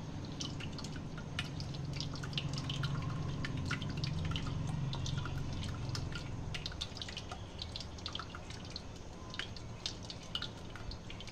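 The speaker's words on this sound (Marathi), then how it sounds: "हे असं आपल्याला गाळून घ्यायचं कपड्याने." Wheat extract for kurdai dripping as it is strained through cloth, a close, steady patter of liquid drops falling into a vessel, continuous with no voices.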